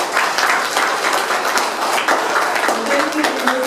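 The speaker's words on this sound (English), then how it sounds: "Give yourselves a big clap." A seminar audience claps together in a steady, full round of applause, with some talk and a voice rising near the end.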